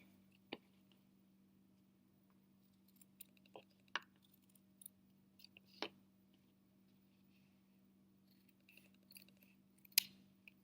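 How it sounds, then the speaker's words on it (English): Scissors snipping through fleece fabric while a no-sew fleece hat is being cut out, a few sparse, sharp cuts spaced apart over a low steady hum, with no talking. "Then you've got this corner at the top. I'm going to cut that out."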